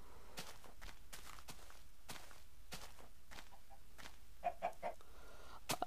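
Blocky footsteps tread along in the video game Minecraft, then a chicken gives a few short, quiet clucks near the end, all faint and with no talking.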